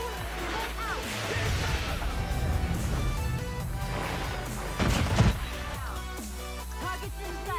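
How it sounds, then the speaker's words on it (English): Airstrike explosions in a Call of Duty-style first-person shooter match come through as rumbling blasts and crashes within dense battle noise, with a heavier burst near the middle. "Friendly airstrike incoming."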